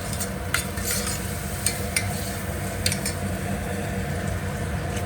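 Mutton being stirred with turmeric and salt in a pan for Telangana mutton curry: steady frying hiss under a run of scraping, clinking spoon strokes, with a few sharper metallic taps.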